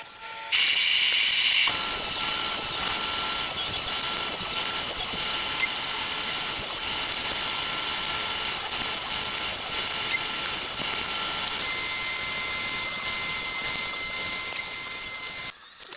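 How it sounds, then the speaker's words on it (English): A table saw with a crosscut sled runs at a steady high whine while cutting walnut to final length, the loud continuous tone shifting slightly as the blade meets the wood, then stopping near the end. "Now I'll cut everything to its final length on my crosscut sled"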